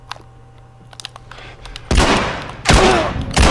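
Shotgun blasts in The Last of Us ring out as a few loud, broad bursts after a quieter stretch of faint clicks and shuffling, with sharp booms repeating about every second near the end.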